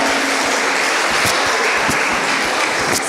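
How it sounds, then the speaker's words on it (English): Loud, continuous audience applause for a contestant walking on stage at a children's pageant in Gambia, dense clapping filling the room without pause, a few sharper claps standing out. "Give her a round of applause."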